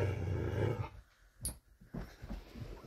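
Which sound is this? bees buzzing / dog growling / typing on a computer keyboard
dog growling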